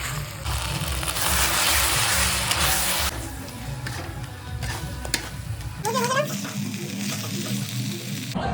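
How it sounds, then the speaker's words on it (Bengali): Onion and chili frying in a pan: a loud, continuous sizzle that eases partway through, with someone talking over it. "এখানে এখন পেঁয়াজ লঙ্কা ভাজা হচ্ছে"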